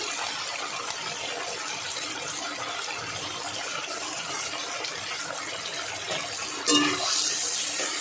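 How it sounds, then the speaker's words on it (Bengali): A small bowl of water poured into a cooking pan of koi fish and pointed gourd with turmeric, a steady rushing hiss of liquid for several seconds that swells louder near the end. "এই ছোটো বাটির 1 বাটি জল দিয়ে দেবো"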